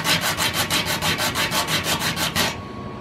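Wooden parts for an MPCNC Primo CNC router build being sanded by hand, a steady back-and-forth rubbing rasp in about a dozen even strokes, close and loud, stopping abruptly near the end.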